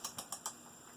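Four sharp, evenly spaced clicks, quiet and close, imitate a small red crab clicking its claws by a rocky boulder on a beach, then fade into stillness.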